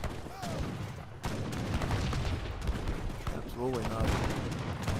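Rifle volleys from Age of Empires 3 cut down a group of Wakoa rifle units, giving a steady crackle of overlapping gunshots. Commentators talk over the shooting.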